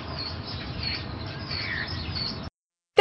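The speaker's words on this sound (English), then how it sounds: "We can only hear the chirping of the birds in the trees." Birds chirping and twittering in trees at dawn against a soft outdoor hiss, followed by a brief gap and a short bright sound at the end.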